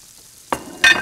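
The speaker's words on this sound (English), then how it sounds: "we just put them into the hot pan very quickly to sear" Chicken pieces searing in a hot pan, two distinct loud bursts of sizzling as they hit the oil, the second stronger and crackling, with quiet air between.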